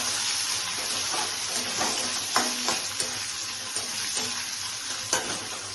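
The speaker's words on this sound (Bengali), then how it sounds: "এভাবে পনিরগুলোকে ফ্রাই করে নিচ্ছি" Paneer pieces fry in a pan under a continuous sizzle, broken by sharp clicks and taps of a spatula turning them at irregular intervals.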